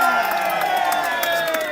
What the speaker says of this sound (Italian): Tifosi del Rovigo che si scaldano dopo questo cartellino